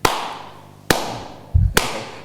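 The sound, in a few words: hands clapping three times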